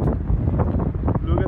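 Strong wind blows outdoors by a boat, buffeting loudly and close against the microphone in gusts, with someone talking under the wind.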